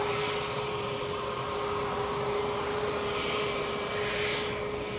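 A Qatar Airways Boeing Dreamliner lands at Manchester Airport, heard as a faint, steady broadband jet rush with a thin constant tone, no talking.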